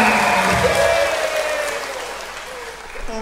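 Seminar listeners at an income presentation break into a short burst of clapping that starts loud and tapers away over a few seconds, with a voice carrying over part of it.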